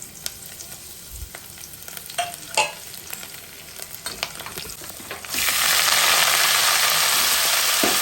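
Garlic, lentils, dry red chillies, mustard seeds and cumin tempered in hot oil; scattered pops and taps at first, then a sudden loud, dense hiss of sizzling as the tempering hits the pan and keeps going.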